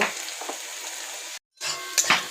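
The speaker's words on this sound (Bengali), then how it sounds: "এবার দিয়ে দেবো গাজর আর ক্যাপসিকাম। তো দিয়ে ভালো করে ভেজে নেব।" Carrot and capsicum sizzle in a frying pan for a vegetable sabudana pulao, a steady close hiss that cuts out briefly and then returns with some stirring clatter.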